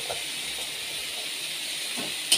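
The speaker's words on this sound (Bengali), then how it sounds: "দেখো শিম আলুটা ভাজছি" Green beans and potatoes fry in a pan in a home kitchen, giving a steady, fairly quiet hiss that runs unbroken throughout, with a few faint clinks and a brief sharper tap near the end.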